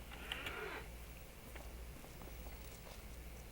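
Cattle lowing in a Farming Simulator barn, one short moo near the start over a steady low background hum, followed by faint scattered clicks and shuffling.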